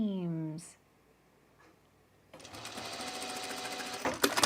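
A sewing machine stitches binding onto the seams of a 1930s-inspired blouse, running in a steady whirring buzz for the latter half after a brief spoken word and a quiet pause, growing louder toward the end.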